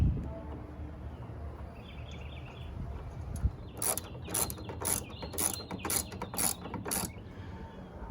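A bolt is being refitted into an Auxbeam light bar bracket, and after a few seconds of low background rumble a series of quick, close ratchet-wrench clicking bursts repeats roughly every half second.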